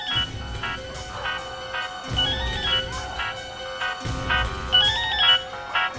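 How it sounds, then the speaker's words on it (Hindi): A telephone rings in a tense indoor scene, repeating electronic ringtone bursts in a steady pattern roughly every two seconds over a low musical bed, fairly loud and close. "फोन बज रहा है।"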